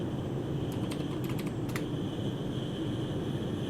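A few quick computer keyboard keystrokes, light clicks in two small clusters, over a steady loud airplane cabin drone.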